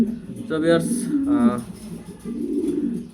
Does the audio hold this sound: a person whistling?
no